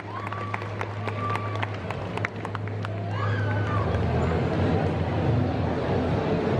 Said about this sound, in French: Ceux qui ont encore des mains, vous pouvez les applaudir pour leur rentrée dans les coulisses